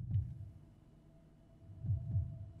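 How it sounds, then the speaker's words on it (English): Slow, muffled low thumps in pairs, like a heartbeat, over a faint steady hum; two double beats spaced apart. "I can hear my heartbeat."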